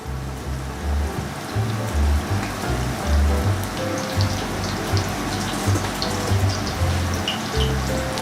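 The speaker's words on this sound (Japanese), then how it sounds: "だいたい2分経ったら裏返しにして両面を揚げていきます。" Cabbage menchi katsu cutlets deep-fry in hot oil, giving a dense, steady crackle with scattered low bubbling pops throughout. No one talks.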